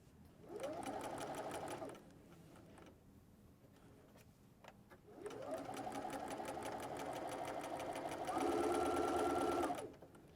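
A sewing machine stitches a soft baby blanket in two close, steady whirring runs separated by a quiet pause; the second run speeds up near the end.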